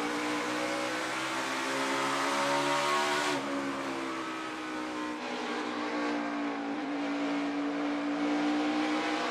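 NASCAR Cup Series race car engines whine and rise in pitch as they accelerate on track, one pulling away and another climbing again, loud and sustained with no talk.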